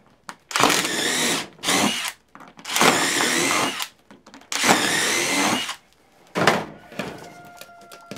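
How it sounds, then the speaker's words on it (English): A power drill whines in several bursts of a second or two each while drilling drainage holes in plant pots, separated by short pauses and clunks, close and loud. "And drill holes in them"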